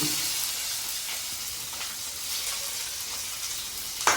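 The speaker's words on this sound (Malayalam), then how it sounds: "അതെ ജീരകവും പെരുംജീരകം ഇട്ട് കൊടുക്കാം പിന്നെ ഇതെല്ലാം കൂടെ ഒന്ന് വഴറ്റിയെടുക്കണം" Mustard seeds, cumin and fennel sizzle steadily in a hot pan for a tomato rice dish, a continuous close frying hiss with faint crackles and a brief louder scrape near the end.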